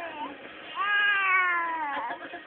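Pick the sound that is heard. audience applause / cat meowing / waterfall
cat meowing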